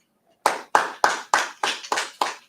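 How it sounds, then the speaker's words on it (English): A congregation at a Sabbath service claps in unison, seven sharp, evenly spaced claps at a moderate tempo, close and clear after a brief silence, with no talking. "Clap it up."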